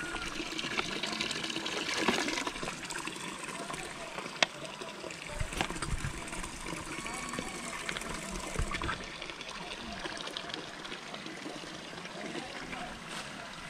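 Water runs and trickles from an outdoor public drinking fountain as containers are refilled, a steady splashing flow over faint outdoor background noise throughout.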